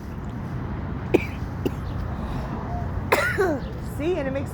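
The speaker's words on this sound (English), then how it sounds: "it makes me cough" A man coughs in short, throat-clearing bursts outdoors against steady background noise, with a couple of brief coughs early on and a louder coughing spell followed by strained vocal sounds near the end.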